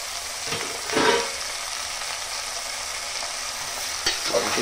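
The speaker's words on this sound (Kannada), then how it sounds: "ಎಣ್ಣೆಯಲ್ಲಿ ಚೆನ್ನಾಗಿ ಮಿಕ್ಸ್ ಆಗುವವರೆಗೆ ನಿಧಾನವಾಗಿ ಚೆನ್ನಾಗಿ ಎಣ್ಣೆಯಲ್ಲಿ ಮಿಕ್ಸ್ ಮಾಡಿ" Vegetables for palav, including potato and beetroot, frying in oil and being stirred, a soft steady sizzle with a few louder scraping stirs, close and without talk.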